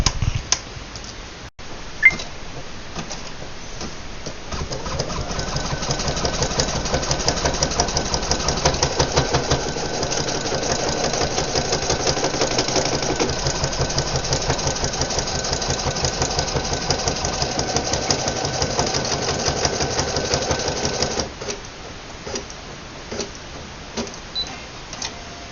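Embroidery machine stitching a design onto a jacket near the hood, a steady fast mechanical clatter with a regular needle rhythm lasting about fifteen seconds before stopping, with a few clicks at the start and end.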